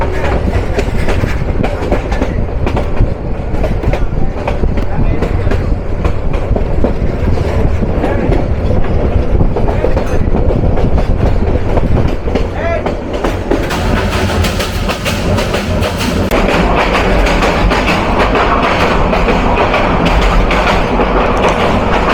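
Kishoreganj Express intercity train running from Bhairab Bazar junction, a loud continuous rumble with rhythmic wheel clatter heard from on board, the tone shifting partway through.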